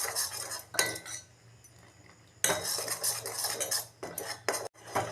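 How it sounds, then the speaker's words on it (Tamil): A metal spoon scrapes and clinks against a pan while ragi porridge for a baby is stirred, in two busy, close bursts of rapid scraping separated by a quieter pause. "ஒரு 3 minutes போல் இந்த மாதிரி நல்லா மிக்ஸ் பண்ணிகிட்டே இருங்க."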